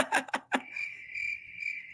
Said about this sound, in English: And that's where the crickets chime in.